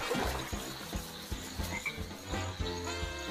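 Frogs croak in a video game cutscene, a dense chorus of repeated low croaks with crickets and trickling water behind, moderately loud and steady with no voices.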